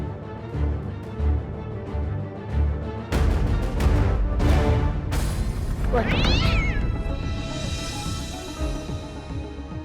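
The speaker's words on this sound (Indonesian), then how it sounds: "Ternyata cuma kucing lah." A cat meows several times in a dramatic scene. Drawn-out, wavering cries come up close over a busy background of thumps and music, with one loud rising yowl standing out.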